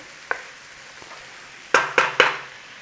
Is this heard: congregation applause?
no